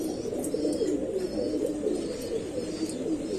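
Soft, continuous low cooing of pigeons, steady and fairly close, with a faint murmur of bird activity and no talking.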